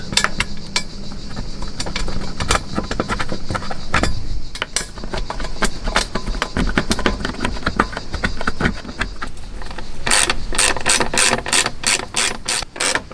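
A ratchet tightens size 10 bolts on a motorcycle accessory bar fitted to a Suzuki V-Strom 800, giving rapid loud pawl clicking in repeated bursts, close up, with a sharper, faster run of clicks near the end.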